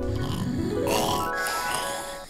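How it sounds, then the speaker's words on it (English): A loud, rattling snore rises and sustains in a Minecraft Christmas hide-and-seek game, one long drawn-out breath close up with no talking. "Ah, he snores so loud."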